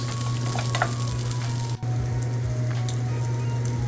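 Chicken fried rice sizzles and fries steadily in a pan, a constant close crackle with a strong electrical hum underneath and a brief dropout midway, no talk.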